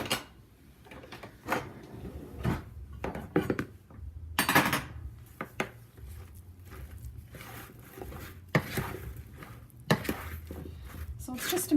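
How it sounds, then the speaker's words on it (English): Food being stirred and coated in a pan after salt is added, giving a series of scraping, clinking knocks of utensil against cookware, irregular and fairly close, with short pauses between bursts. "I'm going to give it a stir"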